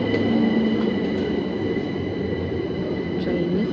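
A train slows to a stop at a London railway station platform, a sustained loud rumble of carriages with faint squeals of wheels over several seconds.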